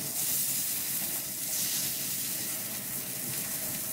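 A filet mignon steak sizzles in a pan with a soft, even hiss that holds steady throughout, fairly quiet and with no talking.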